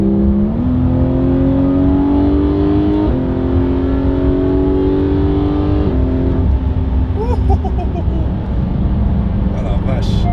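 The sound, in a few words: Porsche 911 GT3 engine revving while driving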